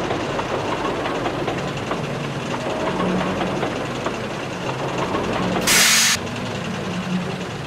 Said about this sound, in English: So Rusty rolled slowly away with his train and the damaged snowplow back to Crovin's Gate.